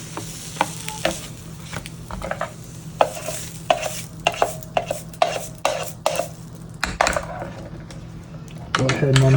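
An egg cooks on a Little Mac Fast Cooker, with a faint sizzle under a rapid series of scraping and clicking taps of a utensil, and a low hum toward the end.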